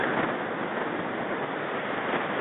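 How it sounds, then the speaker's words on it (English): Fast, high river water rushes steadily through a trout stream in the Poconos, a dense, continuous broadband wash close to the microphone with no pauses and no voices. "The water here is still fast and high."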